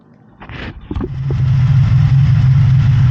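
A Honda Interceptor VF750 motorcycle runs on fuel from its tank after a petcock rebuild. A few clanks come first, then the engine catches and settles into a steady, loud, close idle inside a garage.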